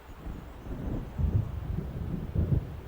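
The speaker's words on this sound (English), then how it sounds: "It seems there's a storm coming." Low rolling thunder from an approaching storm in the video game Alan Wake, two heavier rumbles swelling over a steady windy wash, no voices.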